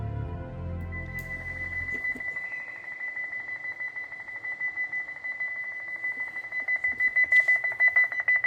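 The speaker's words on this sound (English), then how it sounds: "the alarm went off in the Elysium gym" An alarm clock ringing in a gym with a sustained electronic beep that persists throughout, a low rumble fading out early and the tone pulsing more strongly toward the end.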